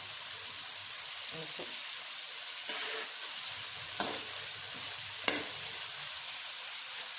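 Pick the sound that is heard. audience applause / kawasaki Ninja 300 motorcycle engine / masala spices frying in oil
masala spices frying in oil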